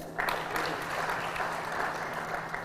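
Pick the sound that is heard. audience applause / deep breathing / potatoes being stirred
audience applause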